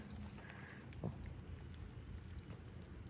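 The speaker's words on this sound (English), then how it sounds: "It's raining." Steady outdoor rain falls with a soft, even hiss at low volume, a constant wash of drops on surfaces with no clear voices.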